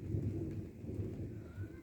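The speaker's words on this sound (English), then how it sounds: "I can hear thunder from the distance, kind of" Low, rumbling distant thunder rolls beneath a soft steady hiss of rain during a thunderstorm, faint and continuous across the whole stretch with no voices.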